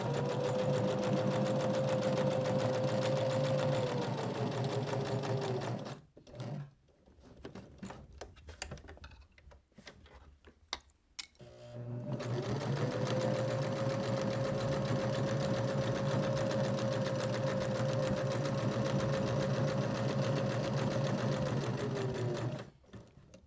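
A domestic sewing machine stitching a fabric scissor holder, a fast steady whirring hum in two long runs, broken by a pause of small clicks and handling noises while the project is turned, close and prominent.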